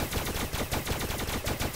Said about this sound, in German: Aber hier kommen gerade Schüsse